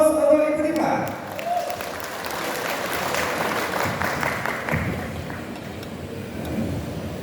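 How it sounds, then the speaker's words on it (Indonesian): Audience applause in an indoor talk show for teachers, a broad steady wash of many hands clapping at moderate level that carries on for several seconds after a brief opening burst. "Aplaus untuk Ibu Dipla."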